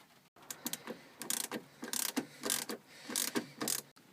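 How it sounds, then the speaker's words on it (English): A 10mm wrench turns console bolts in a Nissan Silvia S13 with an SR20DET during a short shifter install, making close, rapid bursts of ratcheting clicks in quick repeated strokes with brief pauses between them. "now I recommend a 10mm wrench to unscrew those 4 bolts."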